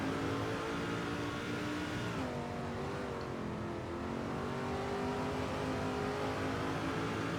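A racing truck engine in the NASCAR 2005 video game drones steadily and loudly throughout, its pitch dipping and rising as the truck backs off and accelerates, with no talk over it.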